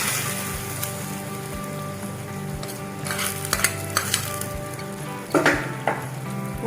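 Crisp fried coconut pieces are stirred into a sizzling Kerala-style spicy chicken roast, with a steady dense crackle of frying under repeated close scraping strokes and spoon knocks against the pan.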